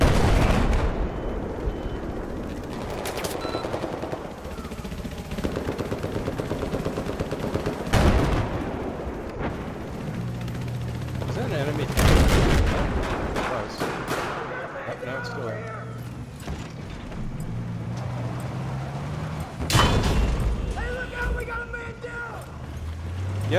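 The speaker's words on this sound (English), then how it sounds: "I was able to get on top of the enemy tank, but it just shot the ceiling and killed me" In Battlefield 4, an enemy tank's main gun fires in heavy, booming blasts several times, mixed with rattling gunfire and explosions in a busy close-quarters battle, with players talking over the action.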